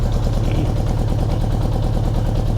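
A car engine with a freshly rebuilt carburetor idles steadily and loudly up close, running rough and not firing evenly on all four cylinders, with no talking.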